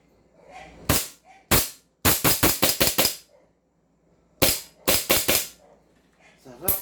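CZ Shadow 2 CO2 airsoft pistol firing sharp, loud cracks, first two single shots, then a rapid string of about six, and later another burst of four or five, with quiet gaps between.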